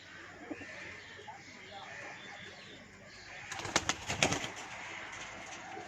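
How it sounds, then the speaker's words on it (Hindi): A flock of fifteen pigeons takes off from a rooftop, a burst of flapping wings rising midway over steady background noise and faint voices. "15 कबूतर उड़ गए।"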